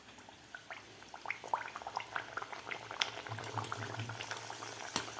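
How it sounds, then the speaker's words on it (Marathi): Puris deep-frying in hot oil give a steady, bubbling crackle with scattered pops and fizzes, close and moderately loud, with a low hum running underneath and no voices. "लगेच आपण पुऱ्या तळायला घेऊया"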